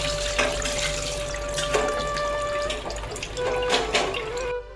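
Dishes being washed under a running kitchen tap, with steady close splashing water, clinks and knocks of utensils, and a faint tonal hum from the tap or pipes, ending abruptly.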